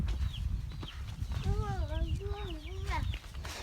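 Chickens cluck and call close by while pecking rice from a person's hand, a short run of rising and falling calls over steady low background noise, with a voice talking nearby.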